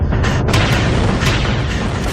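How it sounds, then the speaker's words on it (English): Cannon fire in a full-scale Ottoman assault on the walls of Famagusta in 1571, a dense, continuous rumbling barrage of booms with several sharper blasts standing out near the start. "A barrage of cannon fire was unleashed"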